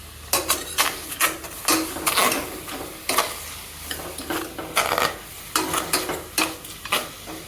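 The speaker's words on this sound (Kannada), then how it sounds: "ಇದು ಒಂದು 5 ನಿಮಿಷ ಫ್ರೈ ಆಗಿಬಿಡ್ತೀನಿ" Mutton dry-frying in a pan with no oil, stirred in repeated scraping, sizzling bursts about every half second, close and fairly loud with no talk.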